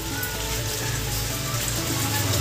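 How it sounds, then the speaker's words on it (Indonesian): Steady, dense rain with gusty wind pours down without a break in an Indonesian home setting, a loud, even hiss filling the whole clip with no voices. "Masih hujan kan?"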